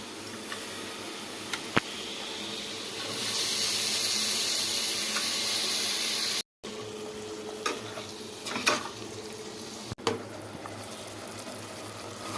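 Half a kilo of cleaned quail sautés with masala in a pan, giving a steady sizzle and frying hiss with intermittent stirring scrapes and utensil clinks up close, briefly cutting out partway through, with no talking.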